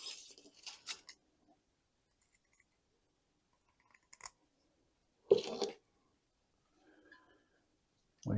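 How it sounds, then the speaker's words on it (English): Drainage screen mesh being cut for a bonsai pot while repotting a green island ficus: a few short snipping crunches spaced apart by quiet pauses, close and fairly soft, with no talking. "Get some drainage screen cut here"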